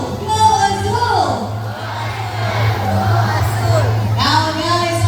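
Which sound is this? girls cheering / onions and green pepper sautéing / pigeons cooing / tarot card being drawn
girls cheering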